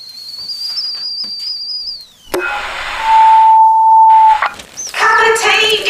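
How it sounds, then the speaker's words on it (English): A kettle whistles in a home, a rising high tone that sustains loudly for about two seconds, then breaks off, followed by a steady beep-like tone and mixed household noises. "The kettle's on."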